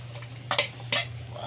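Vegetables for pancit bato go into a wok and get stirred, making two close bursts of metallic scraping and clatter over a soft hiss of frying, with no one talking.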